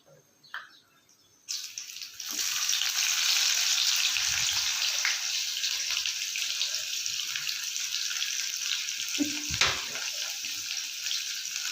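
Onions added to hot oil in a pan after a brief quiet start, bursting into a loud, steady close-up sizzle that holds throughout with a couple of faint clinks.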